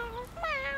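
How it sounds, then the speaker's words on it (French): A tiny kitten gives a short, thin, high meow, rising and then falling, heard close and alone for under a second. "Regarde, c'est un tout petit chat."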